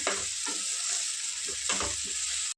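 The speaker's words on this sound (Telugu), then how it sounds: "మనకు ఉల్లిపాయలు కొన్ని వేగిపోయినాయి కదా" Large sliced onions frying in a pan hiss steadily with a few stirring knocks and scrapes, then cut off abruptly at the end.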